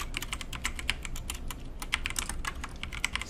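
Fingers tap out a command on a computer keyboard, a quick irregular run of crisp key clicks heard up close and alone, with brief pauses between bursts.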